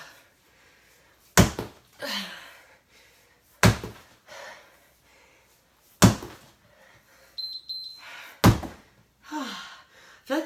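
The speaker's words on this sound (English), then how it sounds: "I feel like the ball slams go pretty quick for 20 seconds too." Four heavy medicine ball slams during a Tabata workout land at roughly two-second intervals, each a sharp loud thud followed by a bounce and panting breaths, with a brief electronic beep near the end.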